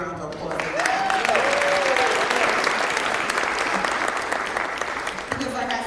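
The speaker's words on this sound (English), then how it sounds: "We can give him a big round of applause." Sustained audience applause at a Garifuna celebration held at New York City Hall, a dense steady wash of clapping lasting several seconds with some crowd whoops over it.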